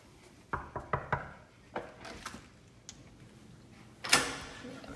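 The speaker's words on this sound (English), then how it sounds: "You can go ahead and knock." Knocks on a restroom door in a campus residence hall, a quick run of four or five close raps followed by scattered lighter taps and one louder bang, fairly near, with a little voice in the background.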